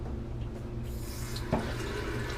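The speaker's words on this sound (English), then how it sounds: "after the third pass, I'll rinse with cold water" Cold tap water running steadily during a rinse after shaving, a continuous broadband splashing wash with a brief louder gush midway, close and alone.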